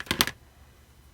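Two or three quick, sharp snips of scissors close by, followed by quiet.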